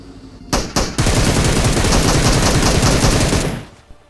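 Sustained automatic gunfire from PUBG Mobile, a couple of sharp single shots followed by about two and a half seconds of rapid, loud continuous bursts that cut off abruptly, with no talking.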